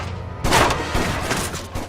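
Gunfire in the action game Stranglehold, a burst of loud shots and booming impacts stacked in quick succession, with a few sharp cracks trailing off over about two seconds.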